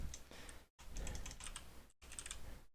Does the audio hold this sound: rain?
no